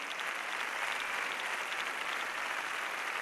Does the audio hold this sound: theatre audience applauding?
yes